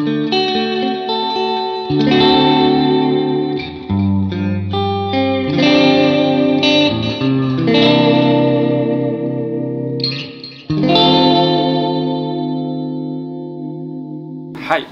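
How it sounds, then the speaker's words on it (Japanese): Fender Jazzmaster chords strummed through distortion and chorus, the tremolo arm held so the pitch wavers unsteadily; several sustained ringing chords with pauses between them, loud and close, no talk. "こんな感じのアームを握りながら弾いてあげることで、非常に不安定なこう音程がかえって心地よいようなコードのサウンドになります"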